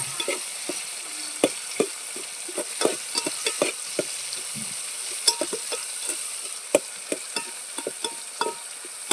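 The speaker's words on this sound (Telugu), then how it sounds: "ఇప్పుడు వేడి చేస్తున్నాను టమాటాలు కూడా బాగా ఉడుకుతాయి" Tomatoes sizzle in a heated pan, a quiet steady frying hiss dotted with soft pops and occasional stirring scrapes, close up with no talking.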